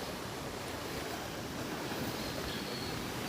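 Strong rushing water roars steadily through the South Cotabato countryside, a loud, continuous wash of noise with wind buffeting the microphone and no talk.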